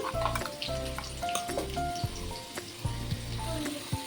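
Potatoes fry in oil in a pan with a steady sizzle, while clinks and stirring sounds break through at intervals.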